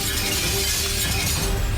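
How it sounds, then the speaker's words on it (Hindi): Many plates breaking in a cartoon hotel scene, a loud dense crash of shattering crockery filling the whole moment, close and continuous with no voices. "इतनी सारी प्लेट्स टूट गई।"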